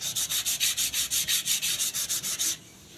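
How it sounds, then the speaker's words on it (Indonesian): Wooden chair sanded by hand: about fifteen quick, even rasping strokes in a steady rhythm, close and fairly loud, then stopping abruptly into quiet, with no talking. "Kalau masih belum halus, masih ada gerenjel-gerenjelnya sedikit, digosok terus."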